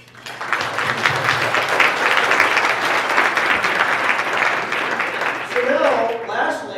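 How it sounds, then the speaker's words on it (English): Audience at the GTL Regional Summit 2016 applauds a four-person panel, a loud sustained burst of clapping that swells in quickly and holds steady, with a voice coming in near the end. "let's give this group of distinguished panelists a round of applause"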